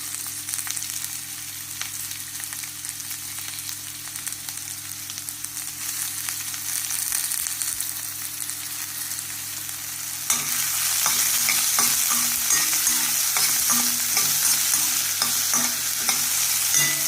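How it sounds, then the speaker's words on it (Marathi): Onion fries in oil with whole spices such as cloves, peppercorns, cinnamon and cardamom, a steady close sizzle that grows louder and busier partway through, with intermittent stirring scrapes and no talk. "त्याच तेलात आता कांदा भाजून घ्यायचा."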